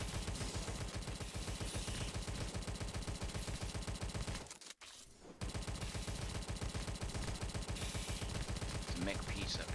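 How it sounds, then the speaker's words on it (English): Tommy gun firing in the video game Tesla vs Lovecraft: rapid, loud automatic bursts rattling almost continuously, broken by one brief pause in the middle before the firing resumes. "There's a Tommy gun down here."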